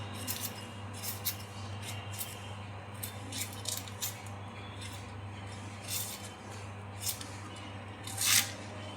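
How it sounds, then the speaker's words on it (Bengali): Knife slicing onions into long thin strips, a run of soft repeated cutting strokes heard faint and close, ending with one louder scrape; no talking. "এবার আমি পেঁয়াজও কেটে নেব।"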